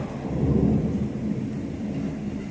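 A deep, steady rumble of thunder rolls on for a couple of seconds with a soft wash of rain underneath, fairly loud and continuous, in Saltivka, Kharkiv.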